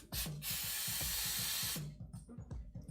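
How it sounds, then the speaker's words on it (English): A spray duster can shooting compressed air, a loud continuous hiss lasting about a second and a half after a short first burst, then a few quieter sputters. "this is a spray duster, so you actually use it to like clean your electronics"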